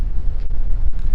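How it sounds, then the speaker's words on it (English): Strong wind buffets the microphone outdoors at a park, a loud, continuous low roar with gusty surges and no talking. "Let's get out of this wind."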